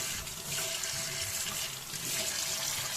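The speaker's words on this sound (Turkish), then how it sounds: "Su inanın akıp gidiyor." Water running off a tap fixture while it is being cleaned, a steady close splashing flow that continues for the whole few seconds without voices.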